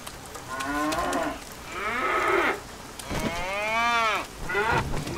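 Cattle moo repeatedly in a long series of drawn-out calls, several overlapping and fairly close, with no talk over them.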